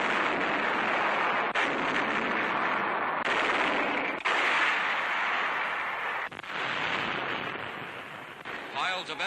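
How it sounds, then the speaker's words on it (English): United States artillery fires a barrage at point-blank range on a tiny island near Kwajalein in 1944 newsreel footage, heard as dense, continuous booming and crackling blasts on a worn, noisy recording, with narration over the top. "United States artillery pounds the objective at almost point-blank range"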